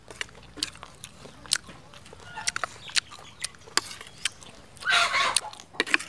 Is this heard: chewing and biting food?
yes